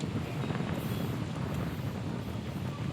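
Strong wind gusting across an open outdoor spot in Tagaytay, a steady loud rushing roar with low buffeting rumble throughout.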